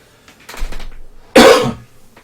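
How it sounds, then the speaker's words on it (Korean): A single sharp cough from a man with a cold rings out close and loud, preceded by a softer throaty breath. "제가 아직 감기가 안 나서 기침이 계속 나오네요"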